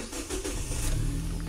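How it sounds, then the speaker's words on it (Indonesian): A car engine turning over and running after the ignition is switched on during a scanner diagnostic check, a steady mid-pitched engine rumble filling the whole moment with no talk. "Sekarang mesin kita hidupkan"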